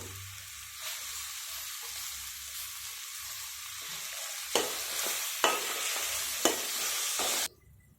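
Onions fry with mint and ginger-garlic paste in a pan, a continuous close sizzle broken by a few sharp scrapes of stirring, the sizzle dropping away abruptly at the end.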